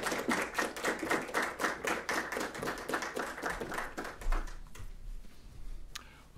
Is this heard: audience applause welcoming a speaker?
yes